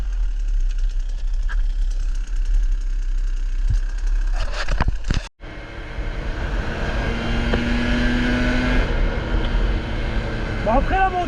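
A 2024 KTM 125 XC-W two-stroke dirt bike with a cross gearbox, heard while riding: a steady, loud engine drone with a brief cut near the middle, then the steady note resumes.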